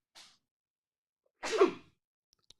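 A single sharp sneeze bursts out at close range, preceded by a brief quick inhale and followed by a tiny click.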